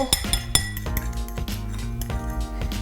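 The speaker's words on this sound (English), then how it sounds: "The egg yolk gets whisked up in the bowl" Egg yolk whisked in a bowl for a pumpkin pie, heard as rapid clinking and tapping of a utensil against the bowl, close and moderately quiet, with no talking.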